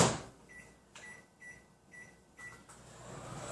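A microwave oven heating a chocolate molten lava cake gives off a steady, quiet hum, with faint repeated tonal chirps over the running drone.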